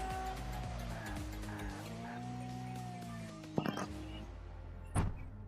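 A car in a driving simulator video game revs and accelerates, its engine tone rising in long sweeping pitches, with tyre squeal and a couple of sharp impact bursts near the end.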